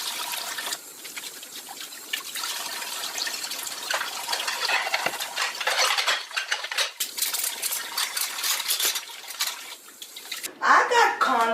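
Dishwashing at a kitchen sink in an apartment, with running tap water splashing and trickling over dishes, close and steady, clinks and scrubbing bursts throughout, a louder gush near the end, and a voice talking briefly.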